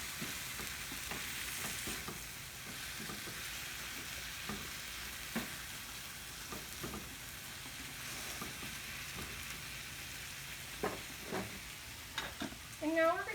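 Rice cooking in a pot being stirred, a quiet steady sizzle and bubbling with soft scraping taps from the spoon, faint and close.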